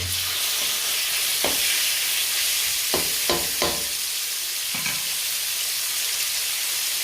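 Pork stir-fries in a hot pan, a loud continuous sizzle and hiss broken by a few brief knocks and scrapes of stirring.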